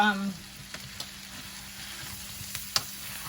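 Meatballs cooking in a pan for spaghetti, giving a steady, close sizzle and frying hiss with occasional small pops and utensil clicks, with no talk.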